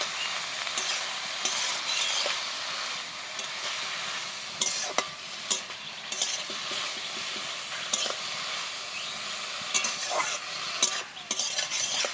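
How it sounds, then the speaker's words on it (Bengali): Pumpkin leaves are stirred in a sizzling pan, with irregular scraping strokes of a utensil against the metal over a constant hiss of frying. "এবার নেড়ে চেড়ে ঢাকা দিয়ে ভালো করে সেদ্ধ করে নেবো"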